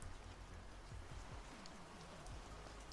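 Rain playing softly in the background, a faint, even hiss of falling drops with scattered low taps, steady and distant throughout and no voices.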